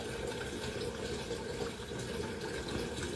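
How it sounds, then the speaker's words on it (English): Cold water runs steadily from a kitchen tap into a pan while canning tomatoes, a continuous close splashing rush that neither builds nor fades. "I think maybe one more pan of cold water will do."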